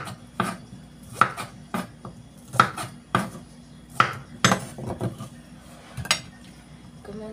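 A kitchen knife cuts through ingredients on a board, making about a dozen sharp, uneven taps and thuds close by, with a faint clink of utensils between them.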